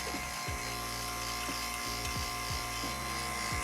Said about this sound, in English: we're gonna turn the vacuum pump on